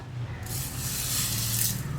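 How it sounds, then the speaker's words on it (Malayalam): Washed green gram is poured into a pressure cooker, making a brief, close, continuous hissing rush of grains and water with no voices. "ഇനി നമുക്കിത് കുക്കറിലേക്ക് മാറ്റാം"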